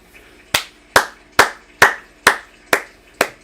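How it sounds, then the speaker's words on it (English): Seven sharp, evenly spaced claps ring out one after another, close and loud, each with a short decay, like a single person clapping slowly. "What are you clapping for?"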